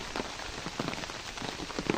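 Steady rain falls outdoors, a dense, even patter and hiss with scattered louder drops close by and no voices.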